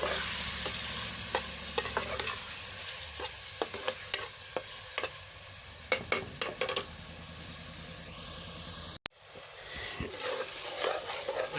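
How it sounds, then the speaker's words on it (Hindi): Tomatoes frying in a pan for brinjal bharta, with a steady sizzle broken by repeated sharp scrapes and clacks of stirring, ending in a brief pause before the sizzle resumes. "अभी डालेंगे टमाटर।"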